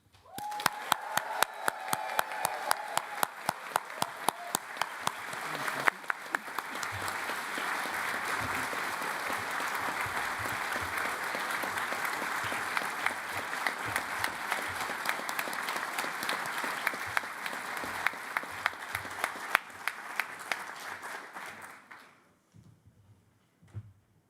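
A graduation ceremony crowd at the Staffordshire Games Institute cheers and applauds, a loud, sustained roar of clapping with distinct sharp claps throughout, holding for over twenty seconds before fading out.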